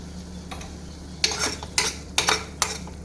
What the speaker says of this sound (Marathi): परतून घेऊया त्याला छान, म्हणजे त्याचा कच्चा पण्याचा वास जाईल